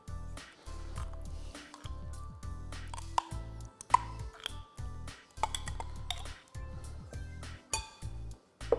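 Pesto alla genovese scooped from a small jar into a bowl, with repeated close clinks, taps and soft wet plops of a spoon against glass and ceramic over background music.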